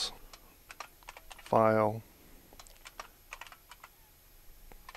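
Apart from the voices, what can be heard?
typing a folder name on a computer keyboard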